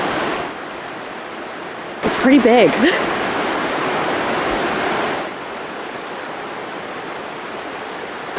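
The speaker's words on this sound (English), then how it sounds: "that one over there is Kanomata River. It's really cool to see two rivers merging" Water rushes steadily where the Kanomata River meets another river in Shiobara, Tochigi, a constant broad roar that carries on under a brief spoken remark.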